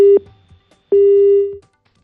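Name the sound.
telephone line tone during failed phone connection to reporter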